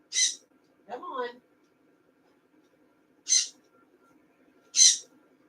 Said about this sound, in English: Are you going to stop squawking then?